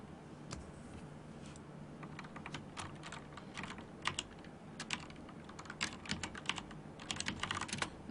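Steady typing on a computer keyboard, with rapid, irregular clicks and taps that come in bursts, faint and close, over a low background hum.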